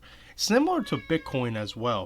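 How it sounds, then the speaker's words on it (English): Pet cat meowing close to a microphone at a home desk, a short plaintive meow mixed with someone talking. "Sorry about my cat."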